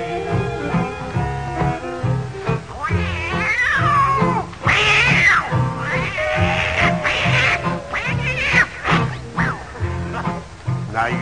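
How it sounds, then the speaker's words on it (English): A tomcat fight with cats caterwauling, loud wavering yowls and howls that overlap and rise and fall for several seconds over a pulsing background, with no talking. "now that old tomcat started a fight, and this is the way it all did sound to me."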